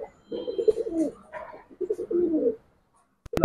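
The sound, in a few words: pigeons cooing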